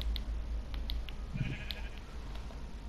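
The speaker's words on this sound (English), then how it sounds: "A sheep." Sheep in the video game Minecraft giving a short, faint bleat mid-way, set against a low steady hum and scattered soft ticks.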